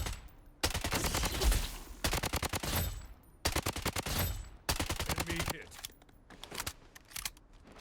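Rapid automatic gunfire fills the clip while hip firing in the Blood Strike video game, coming in several dense bursts separated by short gaps.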